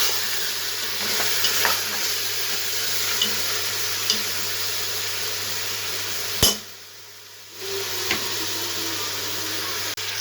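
Mutton fries with garlic and ginger paste for a Karachi-style tomato karahi, giving a steady close sizzle with a sharp metallic clank partway through and a brief dip in the sound.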